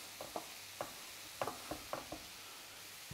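Chicken curry ingredients hit a hot pan, giving a soft, quiet sizzle with a series of light clicks and knocks from stirring.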